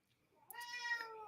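A house cat gives one rising, drawn-out meow that swells and holds, close and fairly soft, alone without talk against a quiet room.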